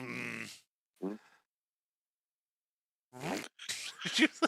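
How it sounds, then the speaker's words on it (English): A short, low, buzzy fart noise sounds after a pause and stands alone between stretches of talk, with voices speaking before and after it. "someone just toot."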